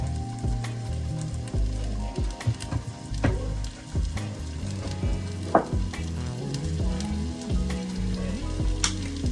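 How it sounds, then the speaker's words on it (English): Vegetables and seasoning sauté in olive oil for a fish stew, a dense continuous sizzle with scattered pops and crackles and occasional scraping stirs close by. "just to saute these vegetables and the seasoning that I'm going to put inside of this fish stew"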